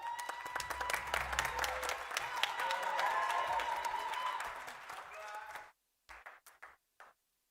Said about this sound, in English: Please give a warm round of applause to Honorable Abraham Angula.